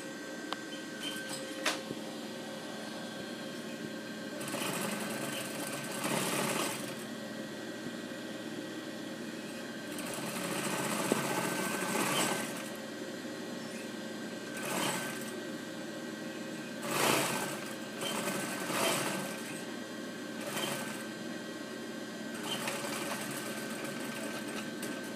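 An industrial straight-stitch sewing machine runs in several short bursts, stitching and then backstitching to lock the seam, with quiet pauses between runs and a faint steady hum underneath.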